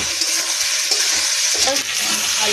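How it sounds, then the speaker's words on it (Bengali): Fried potatoes stir-fried in ground spice masala in a pan, a loud, close sizzle with repeated scraping and stirring strokes of a spatula, no voices. "আলু দিয়ে কিন্তু আবার একটু কষিয়ে নিয়েছি।"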